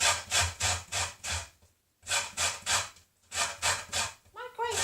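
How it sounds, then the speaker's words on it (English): Lemon rubbed across a dull, worn grater in steady rhythmic strokes, each scraping pass loud and close, with short pauses between bursts of grating. "my grater doesn't seem to be grating very well lately"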